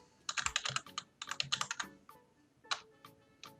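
Password being typed on a computer keyboard while installing Ubuntu in VMware: quick clusters of crisp, close keystrokes in two main bursts, then a few scattered taps, with no talking.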